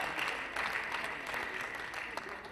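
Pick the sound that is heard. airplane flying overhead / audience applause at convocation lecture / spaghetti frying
audience applause at convocation lecture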